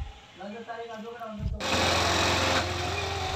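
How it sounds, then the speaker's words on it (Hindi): A Honda Livo motorcycle engine idles after a new block kit is fitted, a close, loud, steady buzzing run that begins abruptly partway through, preceded by someone talking. "तो फाइनली हमारी बाइक पूरा फुल कंप्लीट हो के हमने स्टार्ट भी कर दिया, और इसके आप साउंड देखें।"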